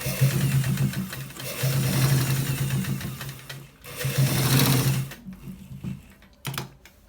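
A sewing machine stitches a collar shirt in a few close, fast-running bursts of mechanical whirring broken by short pauses, ending in scattered clicks and quieter handling noise.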